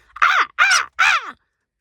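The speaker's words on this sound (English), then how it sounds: "oh no, I'm in deep doo-doo chirp, that's really loud, and it's her alarm call" A bird gives a loud, harsh alarm call: three strong, close calls in quick succession, each sweeping downward in pitch, with brief gaps and no other sound.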